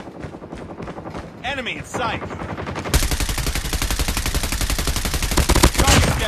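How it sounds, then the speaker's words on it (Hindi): Video game machine gun fire, rapid sustained bursts that start lighter and become a dense, loud continuous rattle, with a game voice line spoken over the shooting. "मशीन गन उठाता हूँ, मशीन गन से मारूंगा।"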